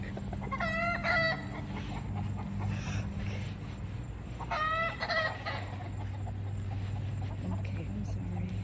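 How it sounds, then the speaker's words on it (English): Two rooster crows ring out at a moderate distance, one early and one midway, over a constant low hum with some faint clucking between them. "I just woke up the roosters."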